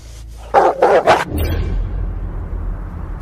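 Feral dogs from a wild pack, a quick burst of three or four loud, close barks in a row, then a low rumbling noise that fades.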